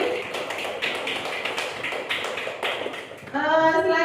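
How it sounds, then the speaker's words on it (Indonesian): A classroom group claps together for a student, a dense burst of overlapping hand claps lasting several seconds, after which a voice starts speaking over the fading applause. "Baik, kita kasih aplaus dulu untuk Dwi."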